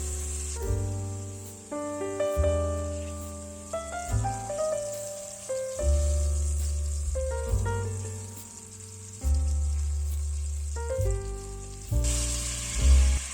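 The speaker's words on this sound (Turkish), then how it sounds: "Bagetlerimizin 4 tarafını yaklaşık 3 dakika kızartıyoruz." Chicken drumsticks fry in a pan with a steady, bright sizzle, partly covered by louder music with melodic notes playing throughout.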